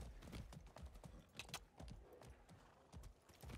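Horse hooves clip-clop in a steady, uneven trot during Far Cry 6 gameplay, close and moderately loud, with the sharp hoof strikes repeating across the whole stretch.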